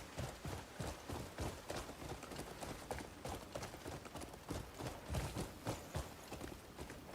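Horse hooves gallop across open ground in the video game Crimson Desert, a rapid, continuous rhythmic clip-clop under faint background noise, steady and fairly close throughout.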